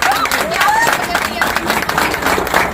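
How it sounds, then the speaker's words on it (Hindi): An audience at a motivational seminar claps loudly and continuously, with cheers and voices calling out over the applause. "एक बार अपने लिए जोरदार तालियां बजाइए।"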